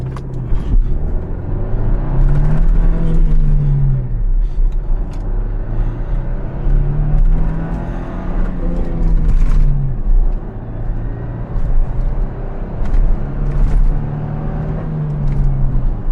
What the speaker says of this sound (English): Now I'll try to show it to you how it goes right off the line, so I can show you some acceleration swag here.